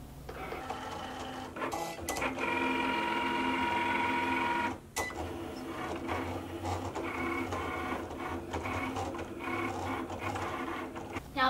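A Cricut cutting machine cutting an Infusible Ink transfer sheet on its mat gives a steady, close mechanical whirring with rhythmic clicks and motor shifts, running alone with a brief pause partway through.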